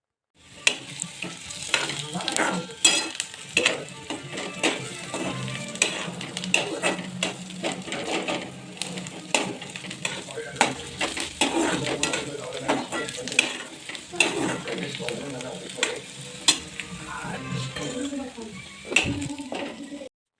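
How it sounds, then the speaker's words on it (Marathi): Chopped onion fries and sizzles steadily in a pan for egg bhurji on a home stove, with frequent scraping stirs and clinks of the spoon cutting through the constant hiss. "भुर्जीसाठी बघा मी कांदा इथं भाजून घेते मस्तपैकी छान"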